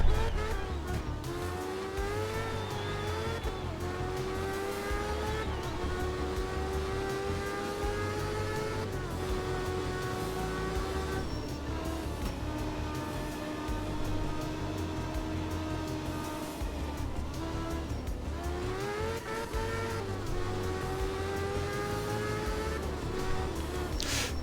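A rally car in art of rally drives and slides on a snowy track, its engine droning steadily with gear-change swoops over a continuous low rumble and no talk.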